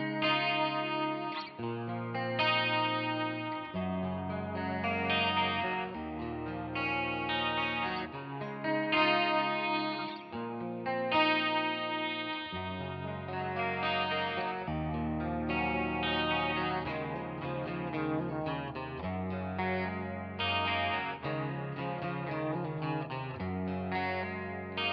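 A distorted electric guitar through a Blackstar St James amp plugin plays a continuous lead line with effects and echo, notes flowing steadily for the whole stretch with no voices.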